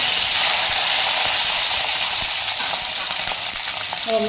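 Garlic fries in hot oil with a steady, close, bright sizzle and crackle that holds throughout, with faint stirring clicks and no talking.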